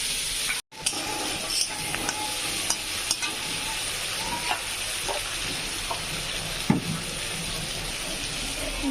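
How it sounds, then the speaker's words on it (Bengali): Meat spice masala frying in a pan, a steady close sizzle with occasional spoon scrapes and stirring clicks throughout, no talk. "আমি মাংসের মশলাটাকে ভেজে নিচ্ছি।"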